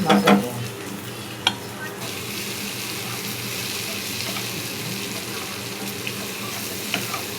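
Eggs sizzle in hot oil with chili and onion, a steady crackling frying hiss under occasional clinks and stirring taps of a utensil against the pan.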